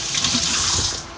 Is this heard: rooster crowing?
no